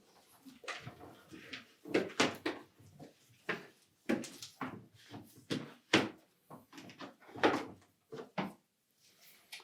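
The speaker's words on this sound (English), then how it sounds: "we'll grasp the gasket in any corner, and then just pull it away from the inner door panel" A series of irregular rubbery tugs and peeling pops, each short and close, as a Samsung refrigerator door gasket is pulled away from the inner door panel piece by piece.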